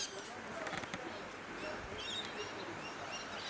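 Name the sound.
birds calling in the morning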